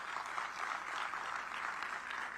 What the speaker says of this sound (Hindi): बच्चियां जरूर जोर से तालियां बजाएं